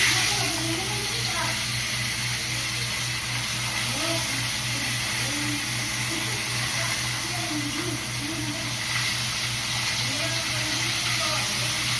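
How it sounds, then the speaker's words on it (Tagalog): Fish frying in hot cooking oil, a steady, close sizzle and hiss that runs unbroken for the whole stretch. "Heat na atong cooking oil so magsugod na tag prito sa ato ang isda"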